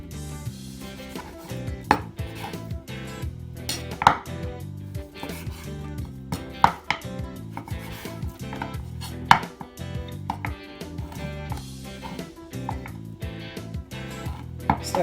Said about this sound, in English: we're just going to remove the fat from the pork chops.